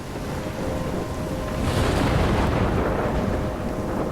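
A storm at sea in the video game Life is Strange: a heavy, continuous roar of wind and crashing waves, swelling louder midway with a rumbling undertone.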